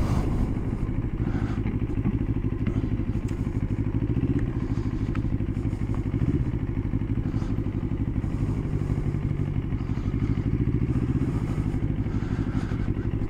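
A 2025 Moto Morini Calibro Bagger 700cc motorcycle rides along with a steady, low engine rumble throughout, heard from the rider's position. Light clatter and occasional road thumps sit over the drone, with no talking.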